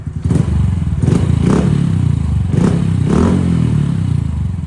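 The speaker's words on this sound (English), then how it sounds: "the exhaust is louder than the intake" A Honda Trail 125 motorcycle with a new aftermarket exhaust rumbles loudly nearby, with several quick throttle blips rising over the steady idle.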